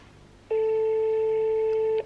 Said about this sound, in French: Au bout de 6 sonneries, je raccroche, moi.